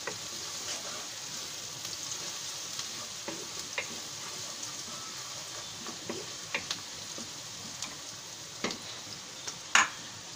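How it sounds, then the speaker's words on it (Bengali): A spoon stirs chicken curry with two small bay leaves in hot oil in a pan, giving a steady, low sizzle broken by light, irregular scrapes and taps. "ভালোভাবে নেড়ে নিব।"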